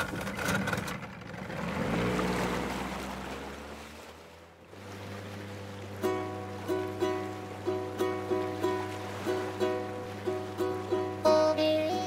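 An old boat ride in the Animal Crossing: New Horizons video game, with a low steady engine drone under a rising swell of water, then a bouncy plucked tune with regular rhythmic pulses over the hum.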